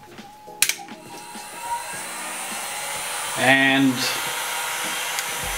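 A heat gun set to 300 degrees blows steadily on a Mid 2007/Early 2008 MacBook Pro logic board, a continuous airy whoosh with clicks early on and someone speaking briefly over it.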